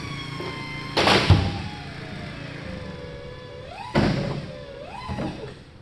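Landing gear retracting on the Raptor prototype aircraft, heard as a steady electric-motor whine that slides and wavers in pitch, broken by two sharp clunks near the start and middle, close and fairly loud with no talking.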